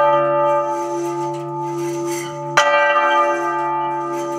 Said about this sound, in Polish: Dzwon golubski jest takim wytworem jednej z najsłynniejszych ludwisarni gdańskich, która działała w wieku XVII.